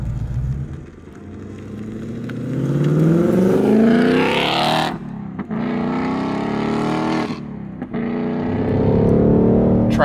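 A 2021 Ford Mustang Mach 1 with the Handling Pack and a Tremec manual gearbox revs hard on a track, engine pitch climbing through the gears with sharp dips at each shift, loud and close.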